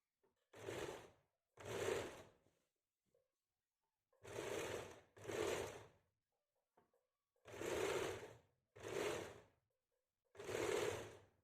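Sewing machine stitching a kameez, running in seven short separate bursts about a second long with quiet gaps between, close by and alone.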